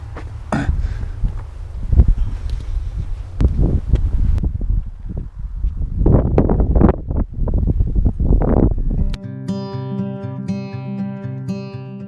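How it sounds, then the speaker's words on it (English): Strong gusty wind buffets the microphone outdoors near Threlkeld in the Lake District in loud rumbling bursts for several seconds, then gives way abruptly to music. "It's windy, but it's a nice day for a walk."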